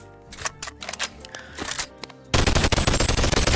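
M16 rifle in the Boneworks VR game, first a handful of scattered clicks and handling sounds, then a loud, dense stretch of rapid automatic fire that continues to the end.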